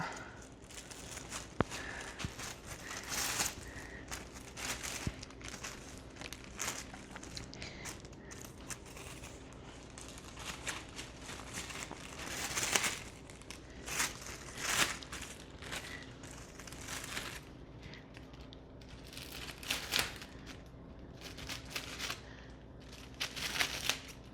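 Plastic wrap crinkles and rustles in uneven bursts up close for a long stretch, with kitchen scissors snipping and handling noises throughout.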